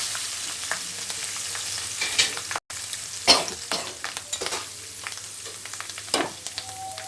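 Marinated chicken, soaked for two hours, is added to hot oil with curry leaves for an Andhra-style chicken pickle. The oil sizzles and frys steadily, with bursts of spoon stirring and scraping through the clip.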